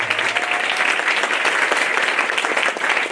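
A church congregation at Healing Tower Church claps loudly and steadily in praise, a thick wash of many hands sustained for around three seconds with no voices standing out.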